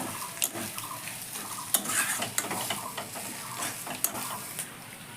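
An egg kabiraji filling seasoned with garam masala and ground black pepper is mixed in a pan: repeated clinks and scrapes of a spoon against metal over a low sizzle, close up, with no voices.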